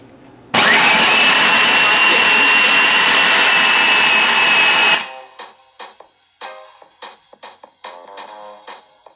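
A food processor grinds ingredients for a keto chicken pizza crust, a loud steady whir for about four seconds that cuts off abruptly, followed by a series of light clinks and knocks.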